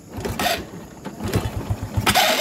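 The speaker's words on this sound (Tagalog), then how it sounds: "Starter, yung gumagano, di ba? Starter motor yan." A Honda XRM 125 motorcycle starter motor cranks in quick rhythmic chugs, with bursts of higher mechanical whirring as the engine, unused for years, turns over without catching.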